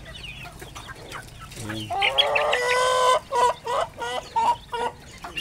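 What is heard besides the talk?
heritage chicken roosters clucking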